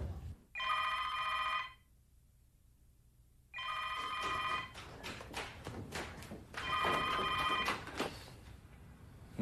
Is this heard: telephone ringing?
yes